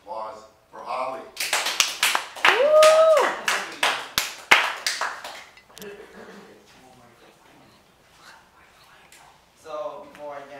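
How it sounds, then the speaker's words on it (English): A small audience at a talk gives a brief round of sharp, scattered claps over a few seconds with a whistle among them, then the clapping fades and voices follow. "let's have a warm round of applause for Ha Lee."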